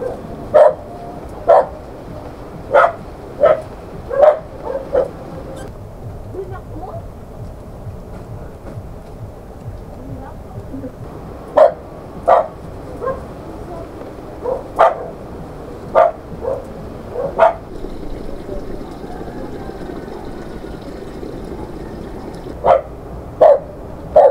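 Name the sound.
dog barking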